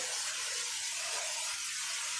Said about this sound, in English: Spray it with oil or spray, rub it with oil or butter.